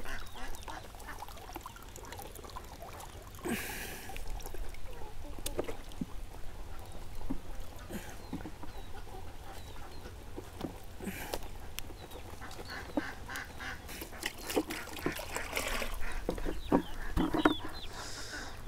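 Ducks quack in bursts around a garden pond, the calls coming near and intermittently over outdoor background noise, with a few other farmyard sounds mixed in.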